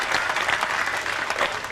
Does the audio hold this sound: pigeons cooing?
no